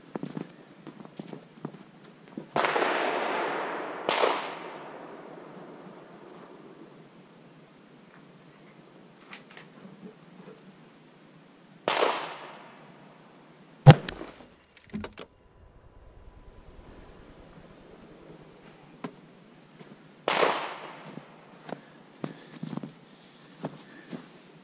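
A 7mm-08 rifle firing a 140-grain Remington Core-Lokt factory load into ballistic gel outdoors; several loud, sharp reports spaced apart, each with a trailing decay.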